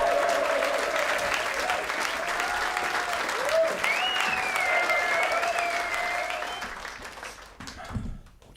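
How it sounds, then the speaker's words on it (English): A live comedy show audience applauds loudly and continuously for a guitar brought out on stage, with a tonal whistle-like sound riding over the clapping before it fades and stops. "give a big round of applause, please, for the guitar, and please keep clapping until I'm in position"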